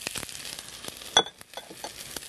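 Sliced onions and portobello mushrooms frying in a pan, a steady close sizzle with a brief louder crackle and a short stir partway through.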